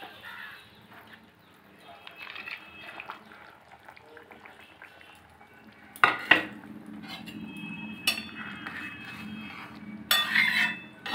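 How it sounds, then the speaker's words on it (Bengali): A metal lid lifted off a cooking pot and hilsa fish added to curry simmering with shola kochu (taro), giving sharp clatters of metal near 6 s and 10 s over a low bubbling simmer, with faint birds outside. "ঢাকাটা উঠিয়ে নিচ্ছি একবার, উঠিয়ে মাছগুলো দিয়ে দিচ্ছি"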